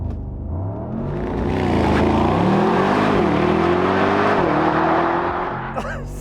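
Mercedes-AMG SL63 launching hard in race mode from a brake-held standstill, a loud close engine roar climbing steadily through the gears with a rising pitch, and a brief pause between shifts.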